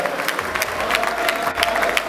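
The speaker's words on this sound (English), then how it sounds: "Nigerians are clapping for this young, dynamic, enterprising young man" A crowd at a TSTV launch event in Abuja claps for a young man, with dense, sustained applause and some voices mixed in throughout.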